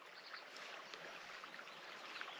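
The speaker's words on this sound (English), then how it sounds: "It's the sound of running water coming off the hill." Running water from a small stream spilling down a hillside on open moorland, a faint, steady hiss and trickle with no voices.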